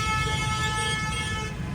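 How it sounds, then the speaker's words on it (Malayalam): Car horns blare in a traffic jam on a road toward an airport, with a sustained, loud, overlapping honking tone over the rumble of idling vehicles. "കാറൊക്കെ കിടന്ന് ഹോണടിക്കുക."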